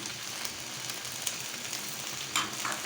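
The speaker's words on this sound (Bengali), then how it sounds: "দেখুন আমি 15 মিনিট এভাবে ভেজে নিচ্ছি।" A chicken and vegetable samosa filling fries in a pan, giving a continuous dense sizzle with small crackles and a brief louder spatter near the end.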